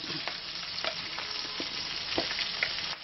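Raw tomato chutney ingredients frying in a pan with turmeric and salt, a steady soft sizzle with occasional stirring scrapes and clicks, close by and fairly quiet, no talk.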